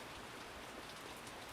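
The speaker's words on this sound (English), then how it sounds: "Finally got that rain, which was oh so glorious" Rain falls on a farm, a soft, steady patter of drops on surfaces that hisses evenly and stays faint, with no voices.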